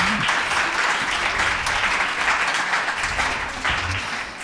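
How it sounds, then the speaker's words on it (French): Applause from the audience at a talk on feminist and queer performance, a full continuous round of clapping at steady volume that swells slightly near the end, with a faint voice under it. "on va l'applaudir"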